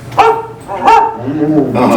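A dog barks in the Carousel of Progress show, three loud, close barks spaced apart with a whiny, yipping tone, the last one drawn out and fading.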